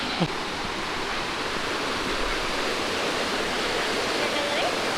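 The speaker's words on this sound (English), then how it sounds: "Ooh, yeah. Waterfalls." A waterfall roars steadily and close by, a dense, even rush of falling water that fills the whole clip.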